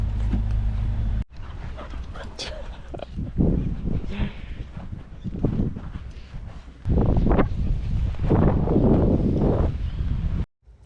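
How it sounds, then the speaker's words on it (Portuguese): A dog makes short barks and whimpers outdoors beside a lagoon in Argentina amid steady wind noise buffeting the microphone, with a low droning engine underneath. "esse cachorro entrou na lagoa sem a autorização de ninguém"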